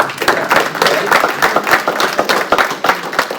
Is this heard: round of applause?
yes